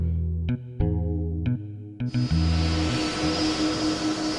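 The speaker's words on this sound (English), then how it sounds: "A charter flight from the Portuguese Azores Islands taxis in." A charter aircraft from the Portuguese Azores Islands taxis in at an airport, its engines giving a loud, steady droning roar that swells into broad rushing noise partway through.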